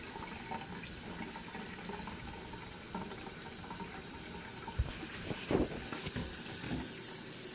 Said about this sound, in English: So go ahead and turn on your water.